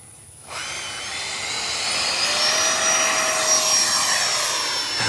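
A Freewing A-6 Intruder 80mm EDF model jet spools up and takes off, a steady loud ducted-fan whine with a rising high tone that holds close and continuous throughout, no talk over it.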